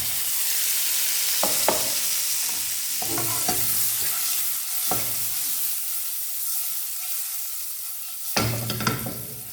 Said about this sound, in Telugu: ఎగ్స్ని అయితే ఇలాగా ఫ్రై చేసుకోవాలి